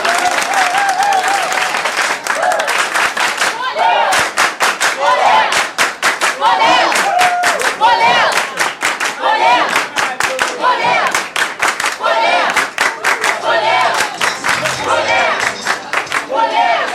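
A school audience at a lycée philosophy event applauds itself, loud and sustained clapping from many hands with crowd cheering and shouts mixed in, rhythmic sharp claps standing out near the front.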